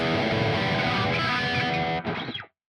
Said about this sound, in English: helps mute the string so you don't have string noise